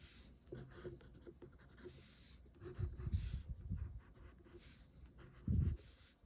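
A pencil drawing on paper makes soft, faint scratching strokes in short bursts, with a few light breaths between them in a quiet room.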